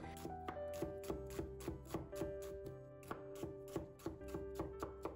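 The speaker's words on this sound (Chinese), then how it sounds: "再准备半个洋葱，先切成洋葱丝。" Knife slicing half an onion into strips on a cutting board, a quick, even run of crisp chopping taps close up under faint background music, with no talking.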